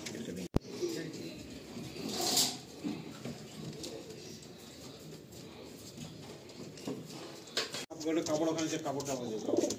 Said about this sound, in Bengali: এটা শ্রীলঙ্কা চোখের পায়রা আছে, ওখানে ছেড়ে স্ট্যান্ডিং দেখি